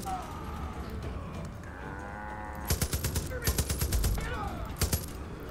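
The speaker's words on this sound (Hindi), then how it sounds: "तो टाइम आ गया है मशीन गन लेने का" Machine gun fire bursts in Far Cry 5, rapid rattling volleys in the second half with a short final burst, loud and punchy over background game ambience with tonal sounds and cattle-like lowing earlier.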